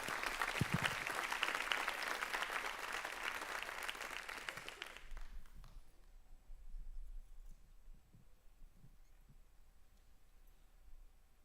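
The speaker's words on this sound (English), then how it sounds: "Please give these students a round of applause." A graduation audience at a co-op ceremony bursts into dense, loud applause for about five seconds, then the clapping cuts off and a quiet room with faint scattered noises follows.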